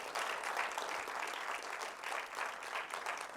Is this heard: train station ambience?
no